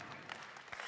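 A single person clapping during a Samsung Unpacked product launch presentation, a short burst of a few claps close by, heard alone.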